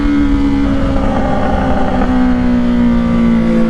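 A Honda CBR650R with a Black Widow exhaust and its dB killer removed idles loud and close, holding a steady, throaty drone with a slight dip in pitch midway.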